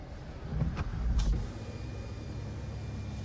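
Electric sunroof of a 2023 Genesis G80 Sport Prestige tilting open inside the cabin, a short motorized whir rising and settling over about a second, close and moderately loud, followed by quiet cabin hum.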